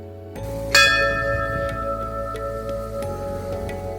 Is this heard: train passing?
no